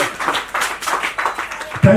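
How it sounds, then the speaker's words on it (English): A gathering marking a hospital's fifth anniversary breaks into a round of applause for a guest, with rhythmic clapping that rises and falls in bursts under a voice speaking over it. "A round of applause, keep it"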